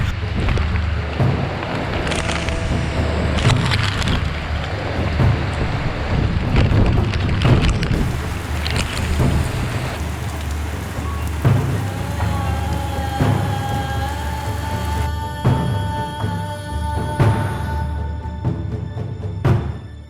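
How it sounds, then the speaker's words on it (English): Strong wind from super cyclone Amphan roars and gusts continuously with rain, loud and buffeting the microphone, with scattered clatter and no voices. "So after 8:30 again came the last slash of rain and high speed wind."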